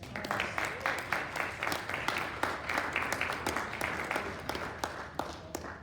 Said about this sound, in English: Can we give a round of applause to our firefighters?